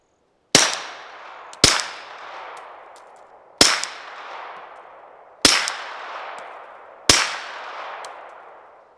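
Five suppressed pistol shots using 124-grain ammunition through a second suppressor, each a loud crack followed by a long ringing, reverberant tail, fired at uneven intervals about one to two seconds apart.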